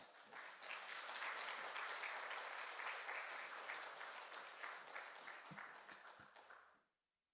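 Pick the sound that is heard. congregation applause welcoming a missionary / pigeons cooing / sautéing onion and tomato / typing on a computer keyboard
congregation applause welcoming a missionary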